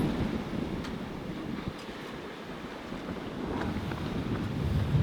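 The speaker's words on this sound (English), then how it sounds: "So the waves get bigger and the crests just start breaking on top." Sea waves break around a sailing boat on open water, with steady wind buffeting the microphone and a continuous rushing wash that swells slightly toward the end, no voices.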